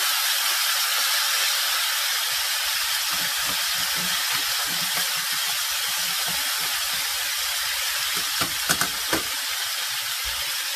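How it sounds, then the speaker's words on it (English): Meat sears in a hot pan with a loud, continuous sizzle and hiss that stays steady throughout, with a few small pops near the end and no talking. "We're just searing it right now."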